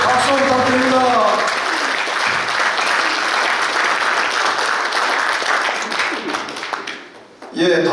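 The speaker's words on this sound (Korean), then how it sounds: "박수 부탁드립니다" Sustained applause from a crowd at a Korean military academy alumni association's leadership handover ceremony, loud and steady for about seven seconds before tapering off, with a voice briefly over the start.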